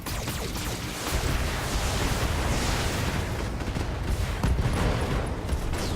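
In the Battletech video game, mech weapons fire and ammo explosions crash together into a dense, continuous barrage of blasts and gunfire that stays loud throughout.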